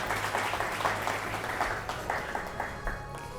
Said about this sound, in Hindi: इस कार्यक्रम की शुरुआत तालियों की गड़गड़ाहट से हो जाए